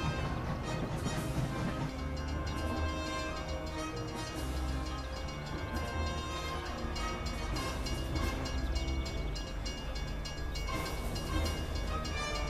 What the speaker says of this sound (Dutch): Oh, wat is die trein?